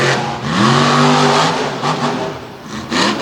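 A Ford Raptor truck engine revving hard at an off-road race, a loud rising engine roar that peaks in the first second and a half, then dips and surges again with crowd noise beneath.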